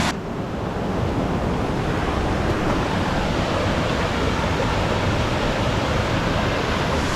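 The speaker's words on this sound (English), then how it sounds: "this beautiful waterfall" A waterfall pouring over rock into pools at a gold-prospecting site, a loud, steady broadband roar of rushing water that holds without a break from start to finish, with no voices.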